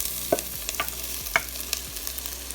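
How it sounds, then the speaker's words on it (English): Mixed vegetables with garlic, onion and curry leaves cook in a pan, a soft frying hiss under scattered clinks and taps of a utensil stirring nearby. "you want to add in your mixed veg. So add that in to the pan."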